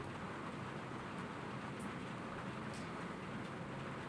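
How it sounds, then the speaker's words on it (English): Heavy rain pours down outside as a steady, dense hiss that holds even and unbroken throughout, with a couple of faint higher ticks. "That rain's really coming down"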